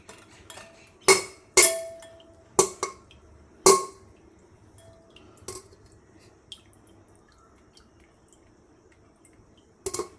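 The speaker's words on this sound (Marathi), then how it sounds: "त्याच गाळणीनं हा कुकरमध्ये शिजवलेलं चिकनचा स्टॉक घ्यायचा आहे तो पूर्ण गाळून घ्यायचा आहे" Chicken stock cooked in a pressure cooker is strained through a sieve for a Kolhapuri white rassa, with a few sharp metallic clinks and knocks of strainer against vessel, faint dripping between them, then quiet before a last double clink.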